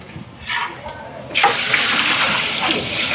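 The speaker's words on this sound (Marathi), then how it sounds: "हे आता याच्यात जात आहे पाणी." Water gushes steadily into a large cooking pot of spices, about 40 litres, after a brief quieter moment, a loud continuous rushing pour lasting the rest of the clip.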